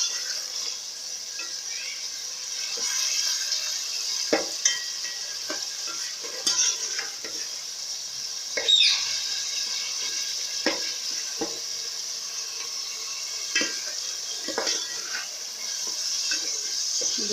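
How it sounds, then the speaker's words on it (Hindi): Minced meat frying over a high flame, a continuous loud sizzle broken by scattered scrapes and clacks of stirring, with faint speech now and then. "इसको हम तेज़ आंच पर ही तेज़ फ्लेम पर ही हमें इसको भून लेना है अच्छे तरीके से।"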